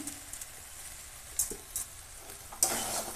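Spinach greens and shrimp stirred in a frying pan, a soft sizzle under a few scraping stirs and clinks, close and fairly quiet, with a louder scrape toward the end.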